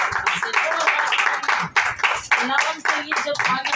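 Congregation at a Thanksgiving church service clapping, with hand claps in rough rhythmic bursts under and between voices.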